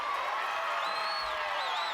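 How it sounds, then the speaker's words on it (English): Excited crowd of children cheering at an American Ninja Warrior obstacle course, a steady dense roar of voices with rising whistling shouts, loud and continuous throughout. "Gotta be so great hearing those kids cheering."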